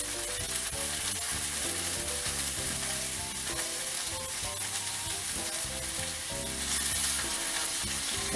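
Beef cubes browning in olive oil in a pan, a loud continuous sizzle and crackle with occasional stirring, close and without speech.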